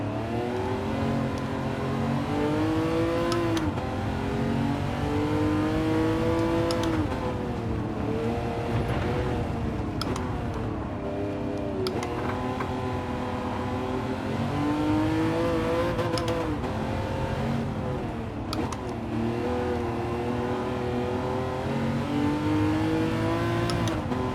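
A Ferrari Testarossa engine in Gran Turismo 7 at the Nürburgring drones steadily throughout, its pitch rising and falling through repeated revs and gear changes, loud and close with no talking.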